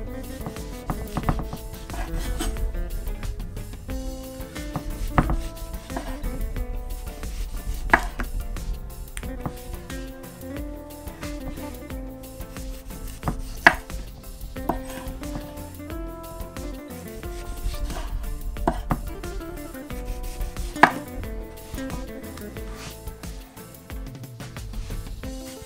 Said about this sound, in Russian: Далее, друзья, нарезаем помидоры.